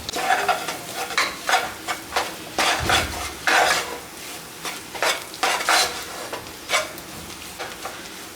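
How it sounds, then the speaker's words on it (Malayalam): Chilli powder, coriander powder and turmeric sautéed in a pan for a Kerala chicken curry, with repeated rhythmic scrapes and clinks of a spoon against the pan over a light sizzle, close by, no speech. "നല്ലപോലെ വഴണ്ട് വന്നിട്ടുണ്ട് മുളക് പൊടിയും മല്ലിപ്പൊടിയും ഒക്കെ ഇട്ട്."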